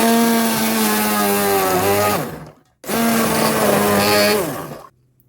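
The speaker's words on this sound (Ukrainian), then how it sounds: "Дістала чашу скороварки і починаємо взбивати." An electric blender whirs loudly through soft cooked liver in a pressure cooker bowl while making pâté, running in two close, sustained bursts with a brief stop between them.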